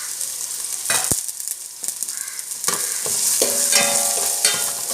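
Ginger garlic paste frying in a pan, a steady broadband sizzle with spatula scrapes and stirring clatter, growing louder and denser in the second half, no voices.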